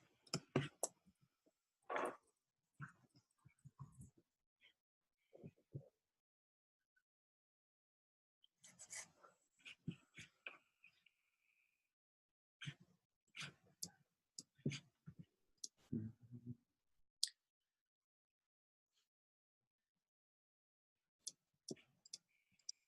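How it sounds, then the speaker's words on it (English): Scattered bursts of quick keyboard clicks, quiet and close, with pauses between runs of typing a chat message. "just typing a quick response to me on Skype"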